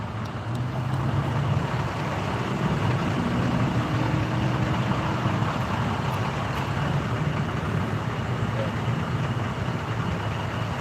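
A truck idles close by with a steady, low rumbling drone that holds unchanged, loud and near, set against outdoor breeze on a Denver street.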